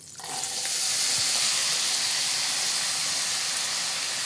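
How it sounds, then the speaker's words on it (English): Finely diced peeled Gala apples hit melted butter in a pan, giving a steady, close sizzle that swells right after they drop in and holds evenly, with no talking. "our butter's melted just fine. We're going to add some apples."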